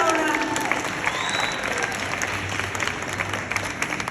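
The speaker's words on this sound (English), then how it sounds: "Another big round of applause for our future governor of Washington State" Audience applause at an Art of Giving fundraiser for Alona, steady clapping from a crowd with a voice and a brief tone audible early on, carrying on for a few seconds.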